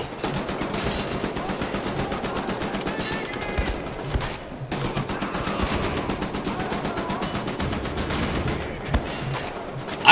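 Dual-wielded automatic weapons fire in rapid, continuous bursts in Wolfenstein: The New Order, loud and dense with dense rattling shots, a brief pause midway, then more sustained fire.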